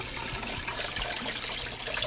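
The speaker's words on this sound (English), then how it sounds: "the water's barely even running through and draining back out" Water running and draining through a SunSun canister filter on a native aquarium, a steady, close, hissing trickle that continues unbroken with no voices.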